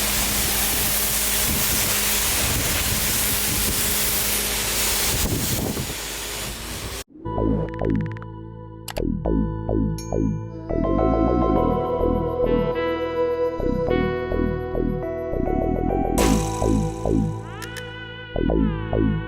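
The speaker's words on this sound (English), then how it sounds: "So now that I got the car nice and sprayed" A pressure washer sprays a Mercedes E550 during an auto-detailing wash, giving a loud, steady hiss of water for about seven seconds before stopping abruptly; clear, pitched tonal sounds follow.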